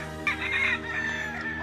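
A Kelso gamefowl rooster on a farm crows loudly and close, one long drawn-out call standing alone above a faint steady background hum.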